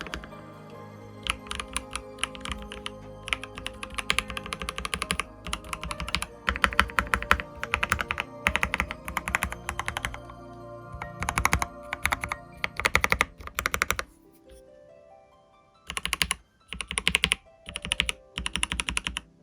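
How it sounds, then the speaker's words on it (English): Rapid typing on a Novelkeys Classic TKL FFXIV Edition mechanical keyboard, with dense, close clacking keystrokes coming in steady bursts and a few short pauses, heard alone with no talking. "Let's let the keyboard do the talking for a second."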